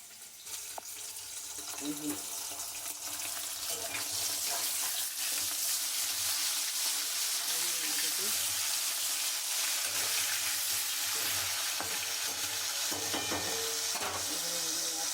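Food frying in a pan in a home kitchen, with a steady broadband sizzle that continues throughout and some faint clinks and a running tap in the background.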